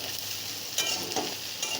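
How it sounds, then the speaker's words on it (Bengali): Okra and potatoes frying with garlic in a little oil in a pan, giving a steady close sizzle with a few brief stirring scrapes and no talk. "লাল লাল করে ভাজা হয়ে গেছে।"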